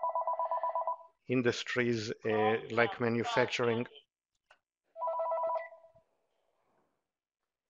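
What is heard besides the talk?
telephone ringing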